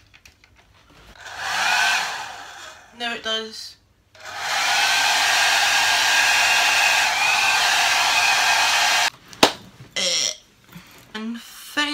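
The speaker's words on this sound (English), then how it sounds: "Next is the hair dryer." A hair dryer whirs steadily for several seconds, starting and stopping twice, with a brief spoken remark in between and some rustling handling noises.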